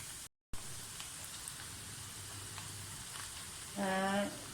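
Moong dal frying in oil over a medium flame, a steady close sizzle and crackle running throughout, briefly cut out near the start, with a short brighter burst of bubbling at the end.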